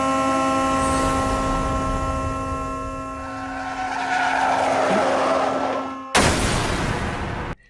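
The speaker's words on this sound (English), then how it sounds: "gets hit by Truck-kun" Anime scene of a truck skidding before striking someone: a long, loud tyre screech with steady tonal squeal building over several seconds, then an abrupt harsh burst of impact noise near the end.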